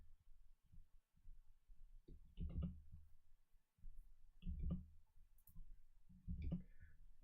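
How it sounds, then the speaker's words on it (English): Soft, close clicking of keys on a computer keyboard comes in short bursts of a few strokes each, separated by brief pauses, with no voices. "Just a little bit of me typing here."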